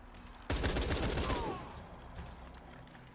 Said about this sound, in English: It takes like 3 shots to kill them with the shotgun now.